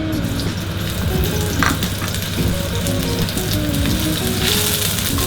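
Loud, continuous sizzling and frying of curry paste in a hot wok, with scraping stirs of a utensil mixed in throughout.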